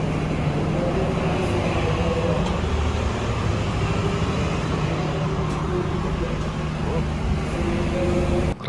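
Motis executive-class passenger train running during the Lebaran holiday, a steady loud rumble and rail noise filling the carriage throughout, with faint voices murmuring underneath.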